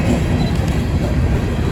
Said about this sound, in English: Lots and lots of coal hoppers on here.